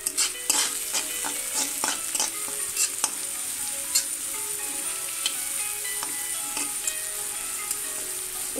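Sliced onions frying in a pan for a moringa leaf dish, a bright continuous sizzle broken by frequent sharp clicks and scrapes of stirring, close and without speech.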